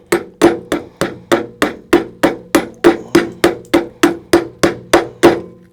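A VIKINGS Blades MHK modern Hmong knife chopping near its tip, about fifteen sharp, evenly spaced thwacks in steady rhythm, loud and close with no talking.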